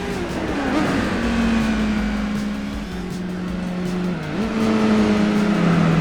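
In Gran Turismo 4, the Cien's tires squeal in a sustained third-gear wheelspin over a steady, loud racing-engine drone, with the pitch shifting a few times and no talk.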